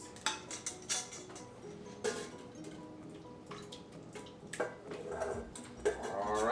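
Wet ingredients pour into Oreo cupcake batter in a bowl, with soft splashes, drips and light clinks of utensils, quiet and close, and no talking.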